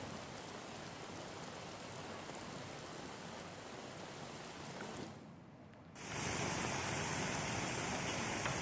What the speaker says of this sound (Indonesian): hujan deras juga mengguyur wilayah Jakarta Timur